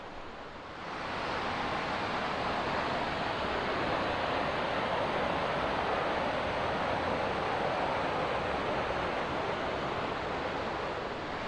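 The River Esk in the Lake District fells rushes past in winter, making a dense, constant roar of flowing water that swells in after a moment and then holds steady.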